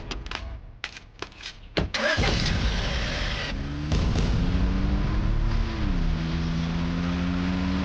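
A car engine cranks to life after a few sharp knocks and clicks, then settles into a loud, steady running hum that holds for several seconds.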